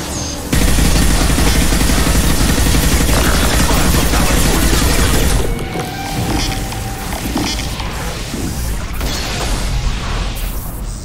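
Heavy weapons fire in the Mass Effect 2 video game, a dense, loud roaring barrage for about five seconds, followed by quieter rumbling and scattered debris-like impacts.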